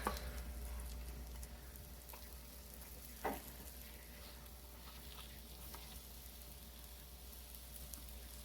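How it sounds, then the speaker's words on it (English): Biscuits fry in butter in a cast iron pan with a soft, steady sizzle and crackle, quiet and close, broken once by a brief clunk. "So we're going to stick the biscuits down into this sizzling butter."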